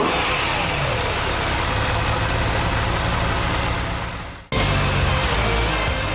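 A Porsche 911 flat-six or BMW M3 V8 engine roars loudly and continuously. Its revs climb, then it drops away briefly before returning just as strong, close and with no talk.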